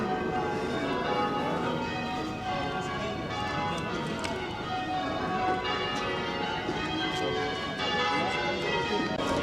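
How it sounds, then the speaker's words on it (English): Canterbury Cathedral's bells ring out with steady, overlapping peals in the distance, mixed with outdoor background noise and faint hoofbeats. "you can hear the church bells in the background"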